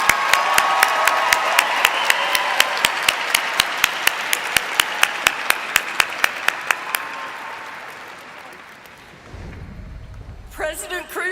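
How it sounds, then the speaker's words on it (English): A commencement audience applauds doctoral degree recipients at a university graduation, sustained clapping with crisp rhythmic claps standing out, gradually thinning and fading before a brief sound at the end. "Let's please give another round of applause for our doctoral degree recipients."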